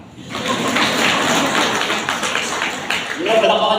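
Continuous crowd clapping from a church congregation fills the space, a thick, close patter with a voice speaking over it.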